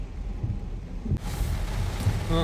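Strong wind buffets the microphone with a low, rumbling roar that gusts and swells steadily throughout, with no voices.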